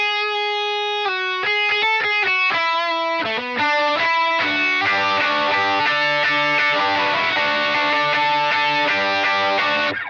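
An electric guitar runs through stacked Superbolt and OCD overdrive pedals, playing a few detached driven notes and then a thick, ringing, sustained distorted passage, loud and alone.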